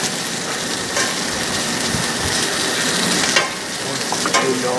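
Blackened Gulf shrimp sear in a very hot pan, a loud steady sizzle that runs throughout, with a few scraping stirs and small pops.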